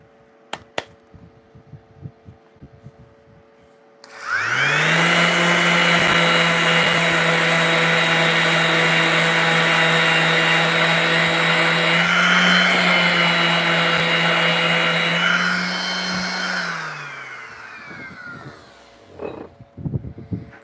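A power sander whirs steadily at close range on a knife for about twelve seconds, its pitch dipping slightly under load, with quiet handling noises before and after.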